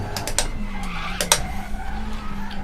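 Sharp tyre squeal from a brake lock-up in a touring car racing game, a screech of skidding rubber rising over the steady drone of engines, with brief bursts of higher-pitched squeal.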